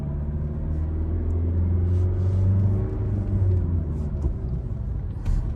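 A car in a driving lesson pulls away from a traffic light, its engine rumbling low and steady and rising gradually in pitch as it accelerates, heard close from inside the cabin.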